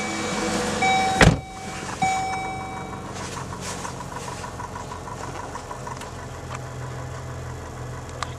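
A 2002 Chevrolet Cavalier engine runs steadily just after a cold start, a close, even idle with a faint ticking rhythm, after a brief sharp thump and a short high whine early on.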